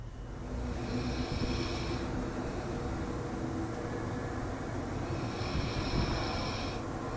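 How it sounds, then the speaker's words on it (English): A slow, raspy snore with two drawn-out breaths, each a rough, buzzing inhale, fairly close and steady over a low background hum. "Well, he snores."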